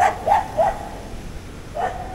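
Dogs at a resort beneath Pulunan Bridge in Trece Martires, Cavite, bark in a quick run of three sharp barks, then a pause before a fourth, heard at moderate distance over quiet outdoor background.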